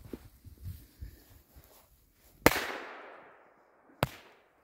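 Fuse firecrackers go off outdoors in snow: one sharp, loud bang trailing into an echo, then a second quicker crack, after some faint rustling.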